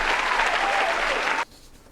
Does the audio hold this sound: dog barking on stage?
no